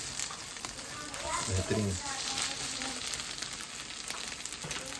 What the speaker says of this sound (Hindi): सेरेमिक का ये फ्राइंग पैन हम लेके आए, साथ में ये स्पून है, तो अंडे अच्छे बन रहे हैं